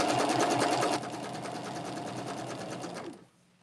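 Sewing machine stitching quilt strips in a chain for a table runner, a fast steady whir that drops slightly in pitch after about a second and stops near the end, close and alone.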